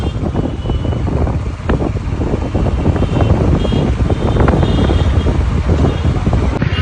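Cold wind buffets a microphone outdoors, a loud continuous low rumble and roar with no clear break and no audible speech.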